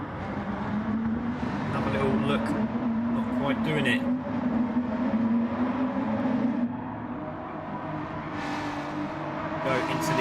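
BMW GT4 race cars in a sim racing game drive in a close train, their engines droning and rising and falling in pitch as they brake and accelerate through corners. A commentator talks over the engine noise throughout.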